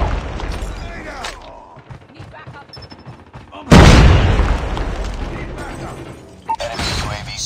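An enemy sentry gun in Call of Duty blows up in a sudden loud, broad explosion that follows busy gunfire and battle noise, then fades into continuing combat sound.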